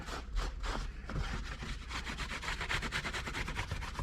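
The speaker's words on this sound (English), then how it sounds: "We're going to go ahead and clean the gasket. Wipe it down real good." A rag wipes down the differential gasket on a Cadillac Escalade, giving quick rhythmic rubbing strokes that speed up in the second half, close and fairly soft.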